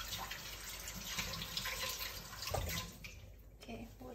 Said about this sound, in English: Okay, wash my hand.